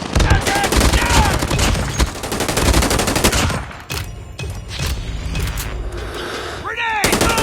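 Video game machine gun fire rattles in rapid, loud bursts mixed with other gunshots and explosions, with brief pauses between volleys and voices calling out over the combat.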